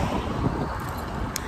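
Wind blows outdoors in Paramaribo, a steady breathy rush buffeting the microphone with low rumbling gusts throughout, close and continuous, with no voices.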